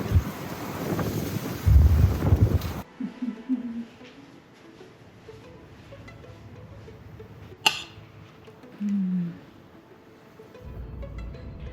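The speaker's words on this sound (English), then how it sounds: "It's so crazy windy outside" Gusty wind buffets the microphone in loud rumbling bursts in a Pacific Northwest city, easing to quieter outdoor ambience with a few faint voice murmurs and a sharp click.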